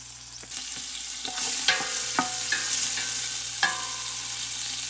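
Hog jaws fry in a pot for collard greens, a close, steady sizzle with a few sharp scrapes and knocks of a utensil against the pot.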